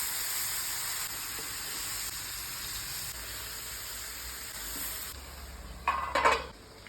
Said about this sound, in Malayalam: ഇനി ഈ ചിക്കനിലേക്ക് കട്ട് ചെയ്ത് വെച്ച ഉള്ളിയും തക്കാളിയും ചേർത്ത് കൊടുത്ത് നന്നായി മിക്സ് ചെയ്യുക